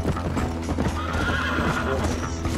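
Rapid hoofbeats of a galloping horse in Red Dead Redemption with an occasional whinny, steady and close, over a continuous game soundtrack, with a voice talking briefly in Spanish.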